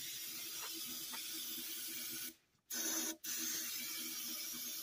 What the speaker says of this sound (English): I just spray it in that little opening right here and then spray out